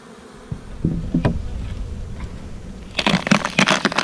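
Honeybees streaming out of a hive in early spring to gather hazel pollen, a close buzzing drone with scattered bumps and handling noises, then a denser burst of nearby wingbeats toward the end.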